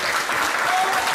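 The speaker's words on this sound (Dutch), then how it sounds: "Dames en heren, hartelijk applaus voor beide vechters." An arena crowd at a kickboxing event applauds the two fighters, a thick, even wash of clapping that fills the whole moment with no break.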